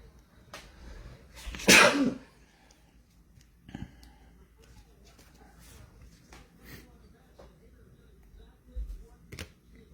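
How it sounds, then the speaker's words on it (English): A single sharp sneeze bursts out near the mic, followed by quieter rustling and a few faint noises in an otherwise calm room. "I'm about to sneeze."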